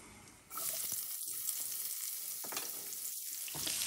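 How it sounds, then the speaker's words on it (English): Onions hit about a quarter cup of hot oil in a pot and sizzle steadily, a close, continuous frying hiss with a few stirring scrapes and no talking. "to my pot, I add in about 1/4 cup of oil. And I'm going to add in my onions."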